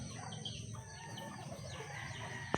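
Chickens with pox, left unvaccinated, cluck and chirp in a faint, steady stream over low background noise, with one short sharp knock right at the end.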